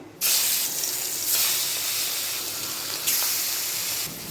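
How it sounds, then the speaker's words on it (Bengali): Fish dropped into hot oil set off a loud, continuous frying hiss that swells in bursts as pieces go in, with no talking. "তেলটা গরম হয়ে গেছে, এবার মাছগুলো ছেড়ে দেবো"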